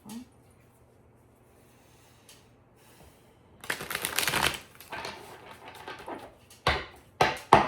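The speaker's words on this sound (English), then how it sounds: "do one more shuffle." After a quiet stretch, a burst of rapid papery riffling as tarot cards are shuffled, followed by a few sharp card snaps and taps nearby.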